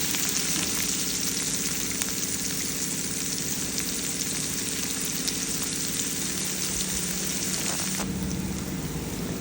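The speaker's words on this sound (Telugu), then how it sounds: "ఈ ఉల్లిపాయలు అనేటివి మనకి బాగా గోల్డెన్ బ్రౌన్ కలర్ వరకు ఏం వేగాల్సిన అవసరం లేదు కొంచెం లైట్గా మగ్గితే సరిపోతుంది" Sliced onions softening in oil in a pan for a netthallu chikkudukaya curry, giving a steady, even sizzle that carries on unbroken throughout with no voices.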